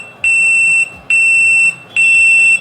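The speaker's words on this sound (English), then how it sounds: "the first time it beeped, actually there was a speech alarm" A NightRider BluCon CGM glucose alarm beeps three times, each a loud, piercing, sustained electronic tone of about half a second, evenly spaced with short gaps, close and alone.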